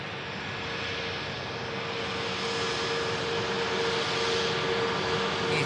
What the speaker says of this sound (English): EasyJet vacates off the rapid exit and taxis past us.